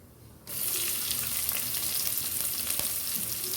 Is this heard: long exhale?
no